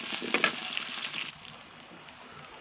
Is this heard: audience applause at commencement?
no